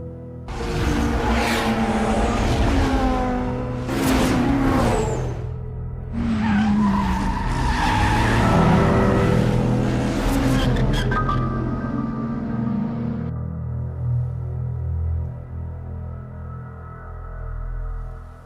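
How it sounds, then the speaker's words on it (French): Cars drift through a downhill mountain race, tires squealing in long, loud, shrill bursts that rise and fade as they pass close by, followed by a lower engine drone trailing off. "leur dérapage à cette allure reste de très grande qualité"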